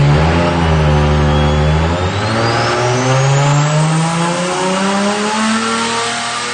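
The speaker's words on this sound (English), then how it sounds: "So this is a BSC built 3-litre motor." A BSC-built 3-litre 2JZ engine with a Hypergear turbo and Greddy intake, making around 460 kW in a Nissan 180SX, runs loud and close, holding a rough idle before revving up and sustaining a rising, droning pitch.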